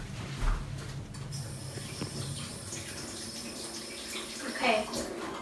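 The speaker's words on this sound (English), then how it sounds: "I'm gonna wash my hands right now" A kitchen tap runs into a sink while hands are washed, producing a steady, moderately quiet stream of water with a few louder splashes and clunks.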